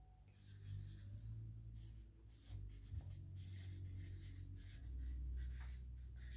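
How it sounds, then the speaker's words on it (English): A pen or pencil scratches across paper in a quiet room, a soft continuous rubbing with short pauses and strokes, close by and faint, with no talk. "I can see you writing"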